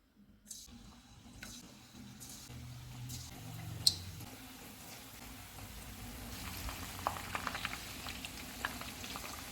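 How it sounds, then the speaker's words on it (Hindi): Chicken pieces go into hot oil for chilli chicken, starting from near silence with a low hum, then a bubbling sizzle that builds and grows busier toward the end. "ऑयल गर्म हो गया, इसमें चिकन डाल देते हैं।"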